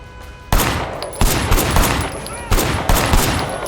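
Video game gunfire rings out in loud, sharp bursts: a volley at the start, then a run of cracks, a pause, and another cluster of rapid shots, each decaying quickly over a background of game ambience.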